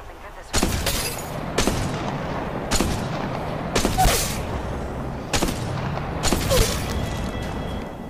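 Sniper rifle shots ring out in a mobile battle game, six sharp loud cracks spaced about a second apart, each with a short echoing tail over steady background game noise.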